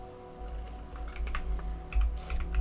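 Rapid, irregular typing on a computer keyboard, a close run of light key clicks with brief pauses, set over a steady low hum.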